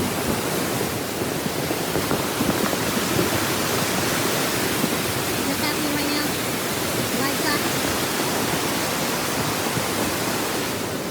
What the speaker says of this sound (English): rainwater in California's burned forests races across the surface, carrying ash, rocks, and debris into destructive mudflows